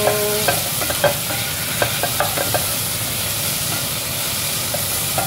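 Tomato sautéing with lentil dal powder in a pan gives a steady sizzle, with sharp scrapes and clacks of a spatula stirring at irregular moments, close and fairly loud, without any speech.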